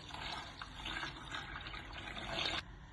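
Sugar syrup poured over chopped orange and lemon for homemade lemonade, a soft continuous liquid splash and trickle for about two and a half seconds, then a sudden stop.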